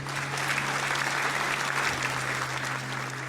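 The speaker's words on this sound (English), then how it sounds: "we can give you a virtual round of applause" A round of applause for Western Union Global Fellows at a summit, a steady wash of clapping with a low electrical hum underneath, even and moderately loud throughout.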